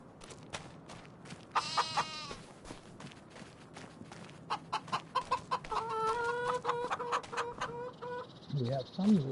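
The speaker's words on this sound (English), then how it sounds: "So we have our chickens already." Chickens in the video game Farming Simulator 25 cluck and squawk in bursts over a soft background of footsteps and ambient farm noise, with faint game sounds between calls.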